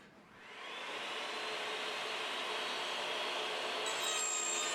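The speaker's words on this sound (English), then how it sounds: "Now I'm going to cut 12 pieces at 12 inches, 6 from the 3rd 10-foot PVC pipe" A saw cuts through 10-foot PVC pipe on a crosscut sled at a 12-inch stop block, a loud continuous rushing whine that swells after the first half second and holds steady throughout.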